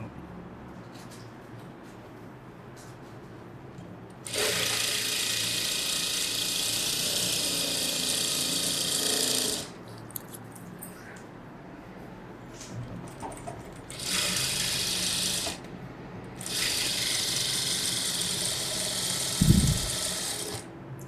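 Sewing machine stitching the edge of a blouse during a tailoring lesson, several steady whirring runs of a few seconds each separated by quiet pauses, close and clear with no talking.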